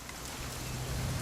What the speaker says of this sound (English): rain the whole weekend, isn't it?